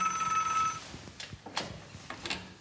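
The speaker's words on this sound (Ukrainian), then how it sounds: "Зате скористатись стаціонарним телефоном можна." A landline telephone rings inside a thick-walled 1970s bunker shelter, a steady bell tone that breaks off into mechanical clicks and rattles as the handset is handled up close.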